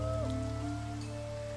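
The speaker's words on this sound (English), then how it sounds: "oh, thank goodness we have rain." Steady rain falling in the survival game Niche, a constant soft patter under sustained musical tones from the game's soundtrack, with no one speaking.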